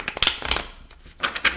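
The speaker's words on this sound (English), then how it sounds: "I'm just doing a quick shuffle so you guys can see me shuffle on camera" Quick bursts of playing cards riffling and flicking, two short shuffles separated by a pause, close to the listener.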